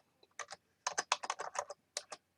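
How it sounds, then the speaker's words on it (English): Someone types on a computer keyboard while setting up a Raspberry Pi and Arduino home lab, quiet bursts of quick clicky keystrokes with short pauses between them and no talk. "Oh, wrong keyboard, Rick."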